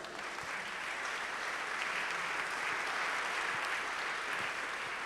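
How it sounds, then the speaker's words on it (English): Sustained applause from a conference audience, a steady dense wash of clapping at moderate volume that continues throughout without pause. "They deserve a round of applause."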